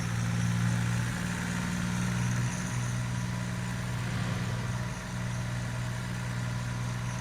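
Tractor engine idling steadily in Farming Simulator 19, a continuous low droning hum with a faint rise and fall, loud and close throughout with no voices.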